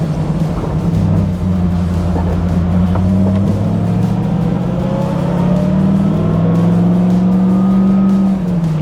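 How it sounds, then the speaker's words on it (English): A 1973 Chevrolet Camaro LT with a 350 V8 and four-speed manual revs while driving, a loud, close engine drone whose pitch climbs and falls through several gear changes. "Listen to the sound,"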